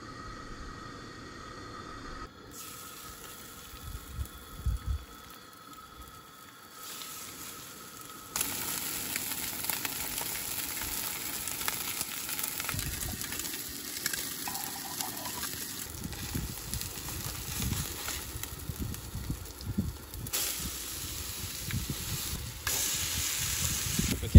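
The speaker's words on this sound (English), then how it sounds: "we'll get the cast iron piping hot, ready for the fish" Fresh-caught fish fries in a hot cast iron pan, cooked outdoors at the back of an SUV. A steady hissing sizzle swells after several seconds and carries on with occasional scraping and bubbling.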